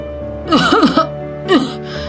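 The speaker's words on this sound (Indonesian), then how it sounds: "Suara batuk parau yang sangat keras memecah udara." A loud, hoarse cough in two harsh bursts, the first a rough double hack, followed after a short pause by a second raspy cough.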